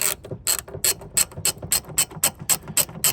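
A 3/8 socket ratchet clicks steadily as it snugs bolts on the shaker hood assembly of a 1970 Plymouth Hemicuda, a rapid, even series of close, crisp ratcheting strokes with no talking.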